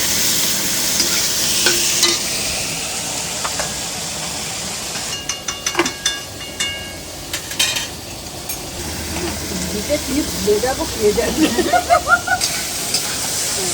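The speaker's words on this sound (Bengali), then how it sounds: "টমেটো আর পেঁয়াজটা ভালো করে ভাজা ভাজা করতে হবে এরপরে দিয়ে দিচ্ছে নুন" Onions and tomatoes frying with salt in a pan, outdoors in a garden: a steady close sizzle runs throughout, with stirring clatter and scraping bursts toward the end.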